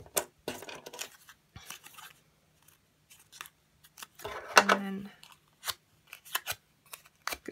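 Card for Christmas place cards is scored by hand in a quiet room, with scattered light scratches and taps, one brief louder clink midway, and faint speech.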